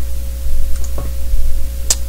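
A game footstep sound effect on a metal surface: two short, sharp metallic taps about a second apart over a low steady hum.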